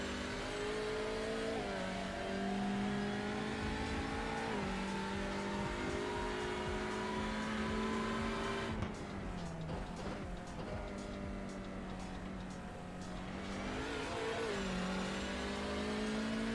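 Race car in the iRacing sim at Daytona, engine revving loud and steady, pitch dropping through several quick downshifts in the middle before climbing again as it accelerates.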